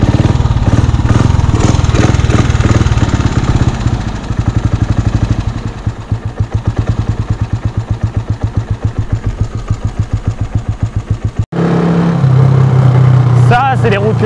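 A motorcycle engine runs up close while riding on a small country road, revving and then settling into a steady, rapid putter before an abrupt cut to a different loud engine tone.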